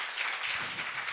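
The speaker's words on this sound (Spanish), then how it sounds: "Denle un aplauso a Dios por eso." Church congregation applauding together, a steady dense wash of clapping held at moderate level throughout a short stretch with no voices.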